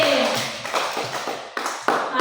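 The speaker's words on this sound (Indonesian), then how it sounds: "Tepuk tangan dulu untuk Engsi." Children clap for a classmate during an Indonesian language lesson, a ragged burst of hand claps that thins and loosens, then a few sharper final claps near the end.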